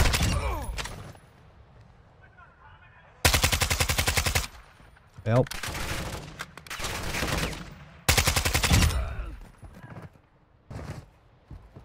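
Unsuppressed sniper and automatic gunfire in the video game DMZ, several loud sharp bursts of rapid shots separated by gaps, with a player's voice briefly calling out between them.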